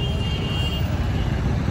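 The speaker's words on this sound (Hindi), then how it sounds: "एकदम ट्रैफिक बहुत है उसकी वजह से आवाज़ नहीं आ रही होगी ढंग से" Heavy city traffic in Lucknow: a dense, steady roadway rumble of cars and trucks, with a brief high beep or horn tone early on, close and continuous.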